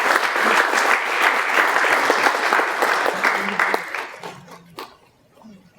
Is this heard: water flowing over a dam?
no